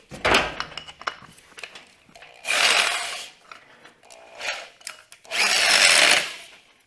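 Close power drill whirring in two longer bursts with shorter grinding spurts and clatter between them, loud and uneven, during fuel system work on a car's LS engine swap.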